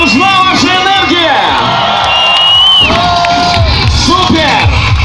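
Crowd at a motorcycle show cheering, whooping and shouting loudly and continuously, with a host's voice calling out over the noise.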